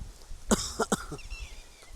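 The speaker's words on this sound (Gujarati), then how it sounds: "કદાચ ઉધરસનો ઠૂંહો આવતો હોય" A few short dry coughs from a man, close and clear, three or four bursts in quick succession followed by a soft throat sound, with no talk.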